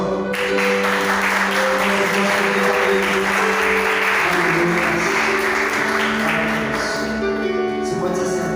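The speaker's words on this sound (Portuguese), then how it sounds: "Aplauda ao Senhor." Loud congregational clapping in a church during a Sunday service, steady applause layered over sustained music with held organ-like tones throughout.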